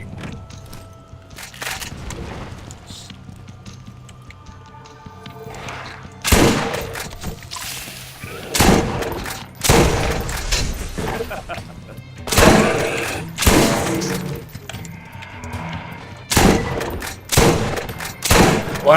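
Shotgun gunfire in Borderlands, fired as Mordecai: a run of loud, sharp blasts, several heavy shots spaced unevenly over the stretch, with game sounds and a voice talking throughout.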